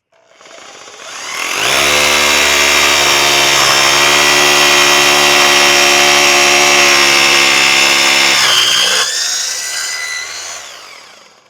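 A Bosch Bulldog Xtreme rotary hammer drill bores into concrete in hammer-drill mode: a loud, close, sustained rattling hammer-and-motor roar for about seven seconds, then it stops and winds down.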